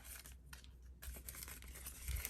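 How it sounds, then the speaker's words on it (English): Scissors snipping through paper to cut out a sticker for scripture journaling, a quick run of close, crisp cuts and faint crinkling over roughly two seconds. "So let me just cut this out"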